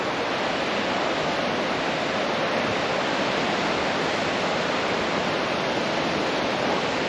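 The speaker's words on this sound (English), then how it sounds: "Here is Europe's most powerful waterfall." Europe's most powerful waterfall in Iceland, roaring in freezing winter cold, a dense, steady wall of loud crashing water that fills the whole span without pause or voices.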